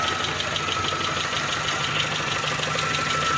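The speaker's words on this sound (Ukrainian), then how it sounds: "Двигун працює рівно." A 2012 Dacia Logan MCV 1.6 MPI petrol engine, warmed up, idles steadily and evenly, a constant mid-pitched hum with a faint regular pulse, close by and with no voices.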